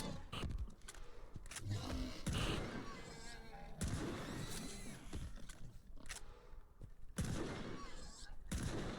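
Gunfire in the video game STALKER 2: repeated sharp shots in several bursts spread across the stretch, fairly faint, with someone talking over parts of it.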